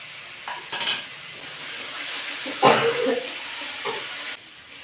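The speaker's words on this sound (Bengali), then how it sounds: "মশলাটা ভালো করে কষানো হয়ে গেছে" Spice masala fries in a pan for a rohu fish curry, with a soft continuous sizzle broken by a few sharp scrapes and clatters of a spoon stirring against the pan.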